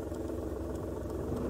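A car engine idling steadily close by as the clutch is eased out slowly without brake or throttle, its low mid-pitched hum shifting slightly in tone at the biting point, with no talk over it.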